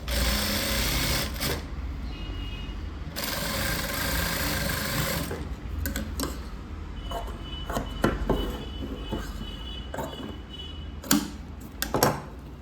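A sewing machine stitches a blouse lining in long steady runs of loud, close, rapid whirring, then stops and restarts in shorter bursts with clicks and clatter.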